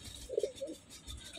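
Soft, low pigeon coos in a short murmuring phrase, faint against quiet background noise.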